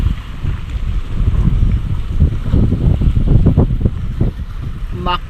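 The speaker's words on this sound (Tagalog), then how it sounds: "Malakas yung hangin." A strong monsoon wind blows at a seawall, a loud, continuous rumbling roar buffeting the microphone, with a voice speaking under it.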